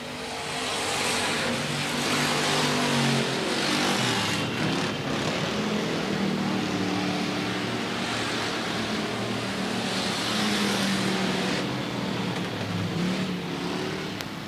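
Sportsman stock cars race through the final laps at Rapid Speedway, a loud, continuous engine roar with shifting pitch as the pack circles the track, sustained throughout without pause.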